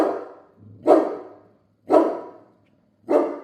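A Cane Corso in a kennel barks three times, each loud, sharp bark about a second apart with short gaps of quiet between them, close to the listener.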